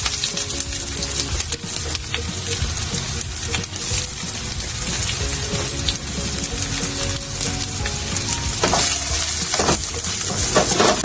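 Onions sizzle loudly in hot oil in a pan while yakisoba is being cooked, a dense steady crackle with occasional clinks and stirring noises, and no talk over it.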